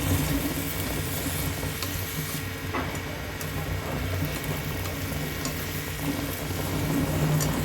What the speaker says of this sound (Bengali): চিংড়ি মাছটা এখন আমি ভেজে নিব ফ্রাই প্যানে